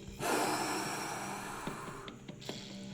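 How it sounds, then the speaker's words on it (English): A deep breathwork inhale drawn in sharply, then a long, steady exhale pushed all the way out, close and breathy with no talking. "Big inhale. All the way out."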